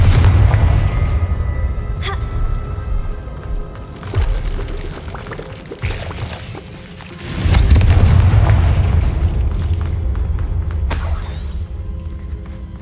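A Confringo spell blasts in Hogwarts Legacy with deep booming explosions and rumbling debris, a heavy low roar that swells, eases off, then surges again with a second blast over a game soundscape.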